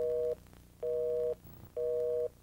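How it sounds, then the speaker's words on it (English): A normal telephone line busy signal sounds as three steady, even tone bursts separated by short silent gaps, clear and alone with no talking. "So if you hear a normal line busy signal,"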